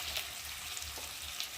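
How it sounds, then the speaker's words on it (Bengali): Potatoes frying in oil in a pan, a soft, even sizzle heard faintly and briefly, with no talking. "আলুগুলোকে একটু লাল লাল করে ভেজে নেব"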